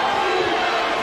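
Football stadium crowd cheering before a 4th and 1 at midfield in a Legends Football League game, a dense, loud, sustained roar with no break.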